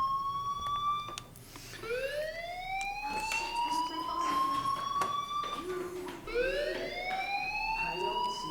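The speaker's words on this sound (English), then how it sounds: "do you hear that fire alarm? That means you should be outside." A school fire alarm in the video game Life is Strange wails in repeated rising sweeps, each tone climbing and holding at a steady high pitch, loud over a muffled background with faint voices underneath.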